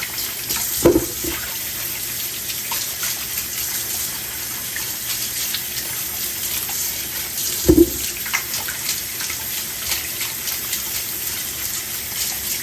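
Tap water runs steadily into a sink while dirt is scrubbed off produce for a hot toddy, with a couple of brief knocks and thumps rising above the constant flow.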